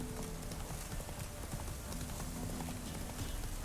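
Hoofbeats of Roach, Geralt's horse in The Witcher 3, clip-clopping in a steady galloping rhythm under continuous ambient game noise, fairly faint.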